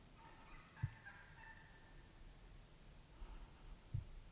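Wild fall turkeys, a group that includes adult longbeard gobblers, gobble in several distant, faint rolling bursts with quiet pauses between them, in an open outdoor setting.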